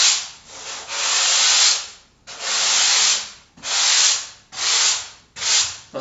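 Hand sanding block rubbed over a foam surfboard blank to smooth a bevel line, five long gritty strokes with brief pauses between, close and steady.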